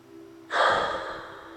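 A single deep, forceful inhalation draws in sharply and close up, then holds steady as the toes tense in a Jacobson progressive relaxation exercise.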